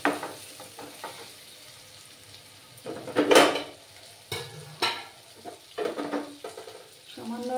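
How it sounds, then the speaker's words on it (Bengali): Potatoes boiled with eggs are added to a pan of frying spice masala. A spoon scrapes and clatters against the pan over a low sizzle, and there are a few louder knocks and stirs. "এবার আমি এই আলুগুলো দিয়ে দিচ্ছি।"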